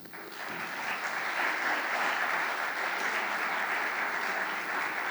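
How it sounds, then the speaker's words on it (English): An audience at an education forum panel discussion gives a steady round of applause welcoming a panelist, swelling quickly and holding at an even level for several seconds. "A round of applause for Dr. Ali."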